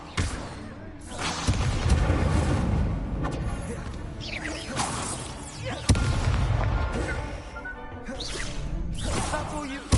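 Incendio fire spell being cast in Hogwarts Legacy, with loud bursting whooshes and booming impacts layered over dense game combat noise, under a voice calling out the spell.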